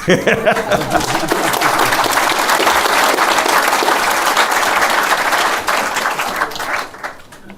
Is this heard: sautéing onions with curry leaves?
no